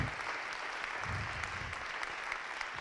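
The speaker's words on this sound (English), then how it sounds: "Give the Lord a big hand clap." A church conference congregation gives a big hand clap, steady moderate applause from many people continuing throughout, with faint low voices underneath midway.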